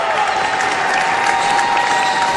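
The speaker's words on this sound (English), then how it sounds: "BG's crowd on their feet." Home crowd at a high school boys basketball playoff game cheers and applauds on its feet, a loud, dense, sustained roar of clapping and shouting filling the gym without a break.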